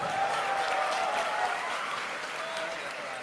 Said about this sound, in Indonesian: Tepuk tangan buat Pak Tito.